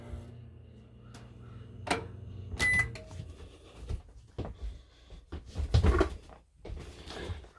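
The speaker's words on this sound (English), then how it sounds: "Running the microwave." Microwave oven running off a standalone solar power system, with a low hum under scattered clicks, clunks and door-like knocks, fairly faint and close.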